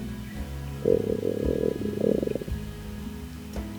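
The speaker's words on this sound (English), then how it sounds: "her stomach rumbles at the mention of food. Rather loudly, as a matter of fact." A stomach rumbles loudly in two gurgling bursts, close and low, a long growl followed by a shorter one, then near quiet.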